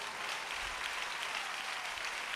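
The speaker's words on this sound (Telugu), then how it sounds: "గట్టిగా చప్పట్లు కొట్టండి." Sustained applause from a church congregation during a Sunday worship service, a steady even wash of clapping at moderate level throughout.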